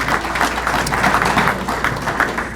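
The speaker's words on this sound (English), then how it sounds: "So a round of applause for Cameron." Dinner guests at a coaches-of-the-year and hall of fame banquet give a round of applause, a brisk, moderately loud patter of many hands nearby with some individual claps standing out, no talk over it.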